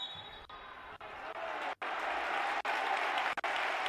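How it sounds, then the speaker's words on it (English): Scattered mock applause rises from the crowd at a women's EuroLeague basketball game after a missed three-point shot, a continuous, moderately loud clatter of clapping across the arena with brief dropouts. "And again, the mock applause."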